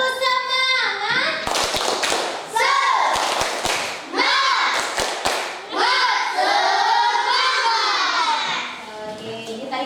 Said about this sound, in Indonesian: Ayo kita tepuk semangat dulu.